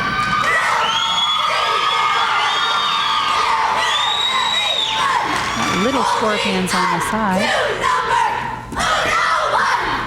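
A crowd at a 1997 competitive cheerleading final cheers and whoops continuously, loud and sustained, with children's shrieks and yells throughout and a commentator talking over it.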